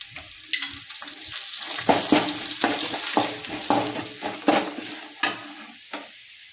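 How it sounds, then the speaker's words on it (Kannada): Bisi bele bath mixture with garlic being stirred in a pan, about a dozen scraping, sizzling strokes in an uneven rhythm, close and clear with no talk. "ಇದೆಲ್ಲ ಹಾಕಿ ಚೆನ್ನಾಗಿ ಮಿಕ್ಸ್ ಮಾಡ್ಕೊತಾರೆ"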